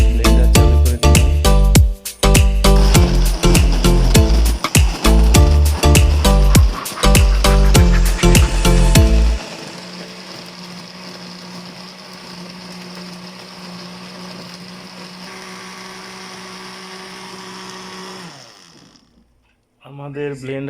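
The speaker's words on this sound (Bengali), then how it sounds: "আমরা এখন ব্লেন্ডার চালু করে দিলাম।" An electric blender whirs through a juice of black cumin, honey and milk. A loud rhythmic stretch gives way to a steady motor whine that runs for about nine seconds before cutting off.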